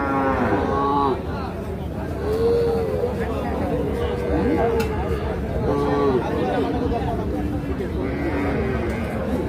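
Cattle moo repeatedly at the Ambari livestock market in Dinajpur, where a cow is being sold with her calf. The drawn-out calls are loud and close and come over nearby talking and the babble of the market crowd.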